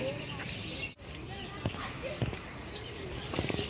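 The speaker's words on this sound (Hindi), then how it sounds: "परिंदों के चहचहाने की बड़ी प्यारी आवाज़ आ रही है।" Birds chirp faintly near a mulberry tree at a railway station, their thin calls scattered through a steady wash of background noise, with distant voices and occasional knocks.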